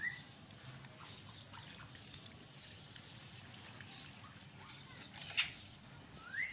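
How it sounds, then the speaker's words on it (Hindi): Water is poured onto a freshly transplanted potted olive plant, a faint steady trickle soaking into soil, with a brief sharp bird chirp partway through. "तो दोस्तों हमने इसे दे दिया है पानी भी"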